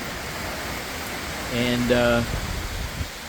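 Heavy rain pours steadily in New Mexico, with a house gutter gushing like a running faucet, a broad wash of water noise throughout while someone speaks briefly over it.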